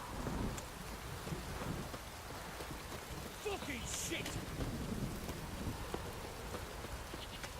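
Steady heavy rain hisses throughout with low rumbling thunder underneath in the video game The Witcher 3, while someone briefly shouts.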